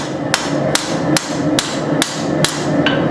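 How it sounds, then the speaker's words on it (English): Thin steel stock is hammered while forging a knife, eight sharp, evenly spaced metallic strikes about every 0.4 seconds, close and loud over steady shop noise. "metal doesn't like to get hammered on itself, so you get all this warping and bending"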